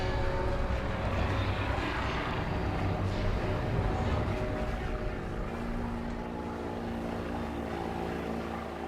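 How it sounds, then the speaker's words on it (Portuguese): A motorboat engine drones steadily on a river, a rough throbbing rumble with a buzzy, layered tone that holds through the whole stretch and eases slightly toward the end, with no voices over it. "Ouvi um barco, mas eu estava longe do rio."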